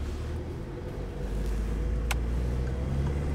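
A learner driver's car pulls away in first gear and accelerates during a driving lesson, the engine holding a steady low drone that swells slightly as it gains speed, with a brief click partway through and no talk.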